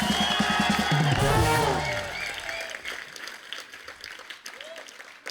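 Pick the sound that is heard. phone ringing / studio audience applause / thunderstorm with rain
studio audience applause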